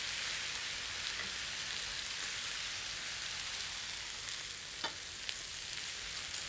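Onions, tomatoes and roasted peppers fry for paella in a steady, soft, hissing sizzle, close and even throughout, with a few faint clicks and no talking.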